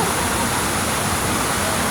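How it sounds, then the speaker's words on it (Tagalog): A mountain river rushes in a steady, dense wash of water noise, close and continuous with no pauses and no voices over it. "Dito kami sa bundok, sa may ilog"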